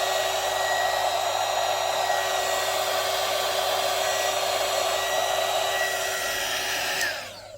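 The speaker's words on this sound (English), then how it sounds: "Get your heat gun." A heat gun blows hot air steadily on heat-shrink sheathing over wiring in an Epiphone Les Paul guitar. It is a continuous, loud, even rushing hiss that holds for several seconds and then cuts off abruptly near the end, with no talking.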